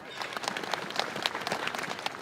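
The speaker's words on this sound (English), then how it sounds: "people in their thousands had come to say goodbye, clapping as the coffin went in" Crowd of thousands clapping outside a church at a funeral as the coffin goes in, a steady wash of scattered applause heard from a distance, fairly faint.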